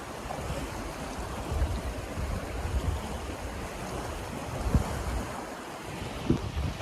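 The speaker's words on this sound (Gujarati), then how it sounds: "પાણી અત્યારે જોરદાર આવ્યું." The overflowing Panchala river at Balagam Ghed rushes as floodwater over the road near a bridge, a broad roaring wash with wind buffeting the microphone and occasional surges, with no talk.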